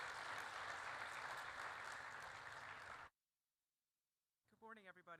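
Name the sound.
audience applause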